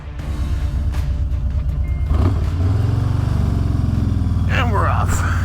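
A motorcycle engine idles steadily, then rises in pitch and loudness as the bike pulls away, its drone continuous and close with a voice talking over it.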